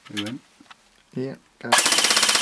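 An airsoft Sten Mark II fires a rapid, steady burst of evenly spaced shots at close range, following two brief spoken bursts.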